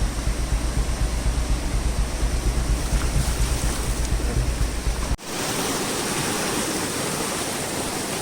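Fast-flowing water rushes loud and close at a hidden waterfall near a village after the rains. The steady roar cuts out abruptly partway through, then resumes as a slightly softer, even wash.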